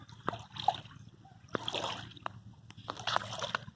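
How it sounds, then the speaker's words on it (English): Small waves wash and splash against the shoreline near the Crystal River Power Plant, recorded at a low angle. Irregular soft surges break in several bursts over a steady low rumble, close by and fairly quiet, with no talking. "the water rolling up to the shore here"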